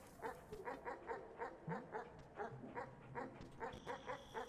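Dog barking in the video game Animal Well: a quiet, rhythmic run of short yips and barks repeating roughly every third of a second, alone with no talk.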